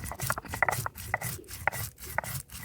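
Whole spices such as cumin, cardamom and cloves ground by hand with a stone for desi chicken curry, giving a rhythmic series of scraping, rubbing strokes at close range with no talk.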